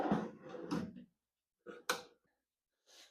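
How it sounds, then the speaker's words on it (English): Drawers being pulled out of a wooden Viato workbench: a rough sliding scrape for about a second, then two short knocking clunks after a pause, and a fainter slide at the end, close up with no talking. "to lighten up the weight, you're definitely going to want to take the drawers out"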